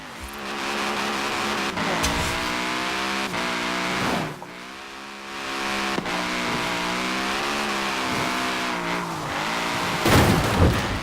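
A car drifting in Forza Horizon 4, its engine revving and wavering in pitch as the tyres squeal through long slides, loud and continuous, with a sharp burst of louder tyre noise near the end.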